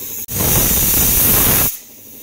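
A pressure cooker hisses loudly and close by, releasing a steady, forceful blast of steam for about a second and a half before cutting off to a quieter background hum.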